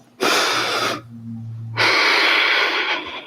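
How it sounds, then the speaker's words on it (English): Two strong, forceful exhales during a kettlebell workout, each a loud airy breath lasting most of a second, close to the mic, separated by a short quiet gap. "Nice strong exhales."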